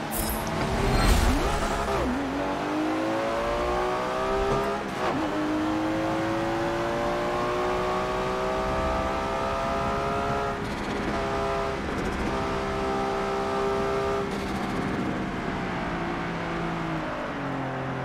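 Race cars starting a rolling-start race in Forza Motorsport 7, engines revving and accelerating through gear shifts, a loud close engine tone rising repeatedly over a dense field of other cars.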